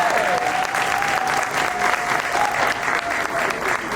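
An audience at a startup pitch competition claps in dense, steady applause that fills the room at an even level throughout.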